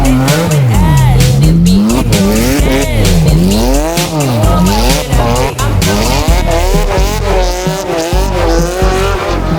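A Porsche 911 GT3 RS drifting on snow: the engine revs rise and fall in repeated sweeping swells, loud and close, with tire squeal and short sharp bursts between the revs.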